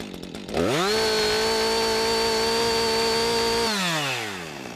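A chainsaw engine, its high-speed carburetor screw being set, snaps from idle up to full throttle, holds a loud, steady high-pitched scream for about three seconds with a slight burble, then drops back down as the revs fall.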